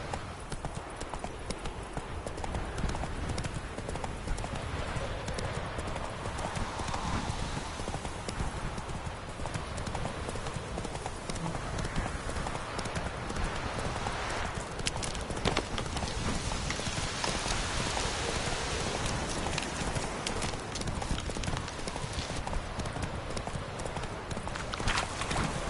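Roach, the horse from The Witcher 3, gallops steadily for a long stretch, hoofbeats continuous under a hiss of rain and ambient noise, moderately quiet overall.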